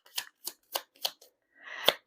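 Tarot cards being drawn from a deck: four or five crisp, evenly spaced card snaps and slides, close and clear, then a longer shuffling rustle ending in a sharp snap.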